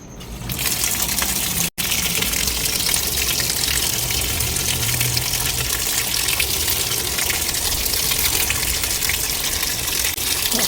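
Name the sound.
water running through hose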